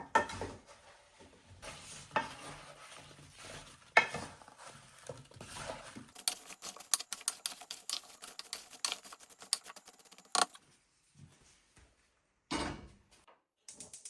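Stirring a mixture together in a pot, with a run of irregular scraping and clacking strokes, fairly close and moderately loud, broken by brief pauses and a short quiet gap near the end.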